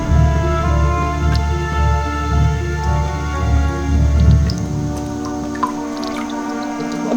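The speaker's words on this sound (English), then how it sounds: "Bro, your house is dripping." Water drips steadily inside a house in A Series of Unfortunate Events video game, heard as soft repeated drops over a low, sustained game music bed.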